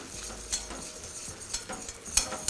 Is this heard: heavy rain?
no